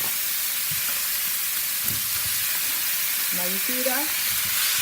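Jamaican-style curry chicken pieces sizzle and fry steadily in a pot with a loud, constant hiss, while a person speaks briefly over the cooking.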